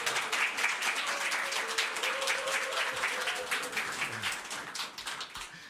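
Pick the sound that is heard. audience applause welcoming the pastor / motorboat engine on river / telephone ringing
audience applause welcoming the pastor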